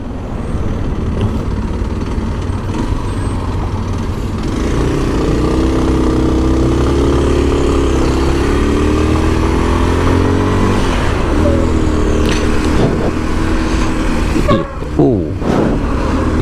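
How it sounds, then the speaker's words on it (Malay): A Modenas KLX230 SM supermoto's single-cylinder engine runs close and loud, its throbbing note rising and falling as it is revved, with no talk. "motosikal ni datangkan dengan engine single cylinder"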